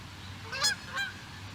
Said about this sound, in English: There are geese coming by shortly.